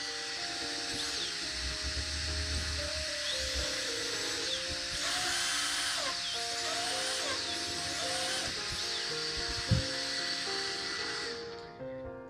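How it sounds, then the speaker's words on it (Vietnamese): A brushless motor run through a powerful speed controller whines steadily at high pitch, its tone stepping up and down as the throttle changes, with a fan's constant rushing noise underneath. "Đó, motor đã chạy rồi."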